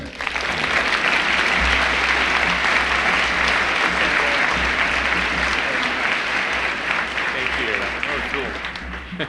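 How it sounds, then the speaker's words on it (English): A large audience applauds at a jobs summit in Montana for Google's executive chairman, loud sustained clapping that fills the whole stretch, with faint crowd murmur and a voice buried underneath. "big round of applause for Google Executive Chairman Eric Schmidt"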